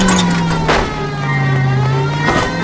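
A car engine hums steadily at close range in the video game L.A. Noire, with a low drone and slight pitch shifts as it drives, loud and continuous.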